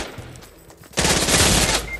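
Gunfire in Fortnite bursts in suddenly after a quieter stretch, a loud rapid string of shots that continues for about a second and then tapers off.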